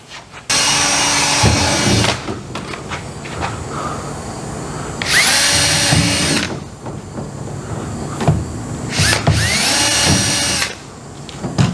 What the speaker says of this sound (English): We're going to get some holes drilled in this tank and this flange.